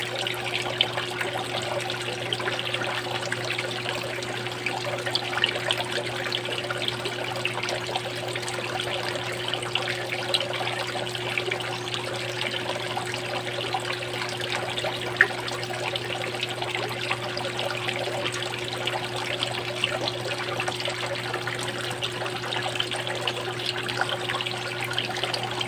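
Steady water trickling and splashing into a catfish pond, a continuous bright wash with a constant electrical hum underneath, even and unbroken throughout with no voices.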